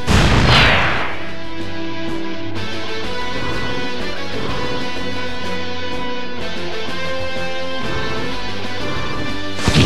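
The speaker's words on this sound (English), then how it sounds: "Shooting stars, smash our enemies! fire sling!" A fire sling attack in the video game Arc the Lad: Twilight of the Spirits, opening with a loud fiery burst followed by sustained rumbling, crackling impacts layered over dramatic game music, with another burst at the end.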